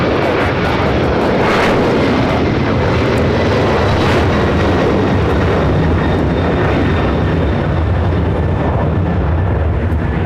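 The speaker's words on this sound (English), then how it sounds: "The American 777 continues down taxiway Bravo, heading to 25 right, heading again to Dallas, Fort Worth, Texas" American Airlines Boeing 777 taxiing along a Los Angeles airport taxiway toward its runway, a loud, continuous jet engine roar with a slight swell early on, close and unbroken with no voices.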